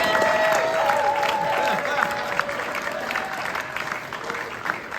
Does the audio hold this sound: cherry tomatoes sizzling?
no